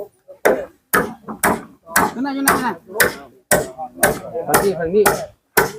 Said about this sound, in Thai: กำลังตอกไม้จ่าย